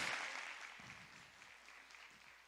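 An audience applauding, a soft sustained patter of many hands that starts fuller and thins slightly, heard from some distance with no voices on top.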